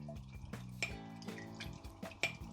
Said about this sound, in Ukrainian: мити пензлик вже в цій воді з милом